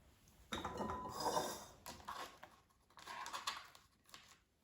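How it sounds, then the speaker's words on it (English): Cut sweet potato fries dropped into a bowl while preparing air fryer fries from scratch, giving soft, scattered clinks and light clatter in bursts, quiet and close, with no talking. "once you cut it, let's put it in a bowl"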